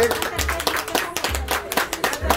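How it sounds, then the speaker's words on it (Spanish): Guests at a children's birthday party painting contest clap for a participant, a loose burst of hand claps up close with voices talking over them and low thumps underneath. "levántale un fuerte aplauso para esta participante"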